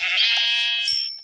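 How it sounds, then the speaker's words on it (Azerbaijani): Sheep bleating in the Minecraft video game: a single sustained, nasal bleat, loud and close, heard alone with no talk. "Bir dənə qoyun tapdıq şükür."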